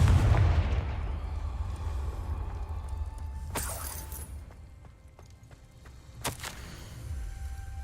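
A Confringo blasting curse explodes in Hogwarts Legacy, starting with a loud booming blast that fades into rumble. Sharp cracks and spell impacts follow later, all game sound effects with no talking.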